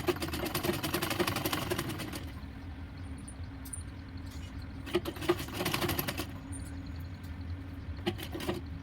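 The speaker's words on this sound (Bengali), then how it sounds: "দিয়ে এটা পুরোটা সেলাই করব।" A sewing machine stitches a Bombay cut blouse, running in fast rattling bursts of needle clatter with a steady motor whir, pausing briefly between runs, close and with no speech.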